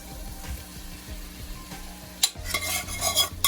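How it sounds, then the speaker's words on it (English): Canned ackee tipped into a pot of saltfish, starting with quiet stirring and light taps, then a sharp clatter and a louder burst of sizzling and scraping as the ackee goes in. "Now I'm going to add my ackee inside the pot"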